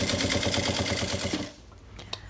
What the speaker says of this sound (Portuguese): Agora é só costurar, contornando aqui o nosso espelho.